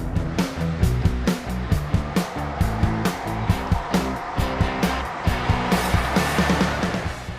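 Vehicle engine pulling hard under heavy throttle while climbing a short mountain pass near Canyonlands, downshifting to hold 70; a steady loud drone with repeated rhythmic thumps and broadband road and wind roar throughout.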